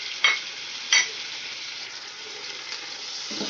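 Sliced medium tomatoes and green chilies stirred into ginger and garlic frying in a pot, with two sharp scraping stirs early on over a steady, close sizzle that fills the rest.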